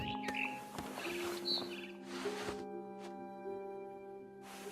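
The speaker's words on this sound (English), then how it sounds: "Then I heard chirping outside my window. It was a barn swallow going back to her nest." A barn swallow chirping in a video game, a few short bright chirps near the start amid tonal ambient hum, then sparse clicks and quieter background.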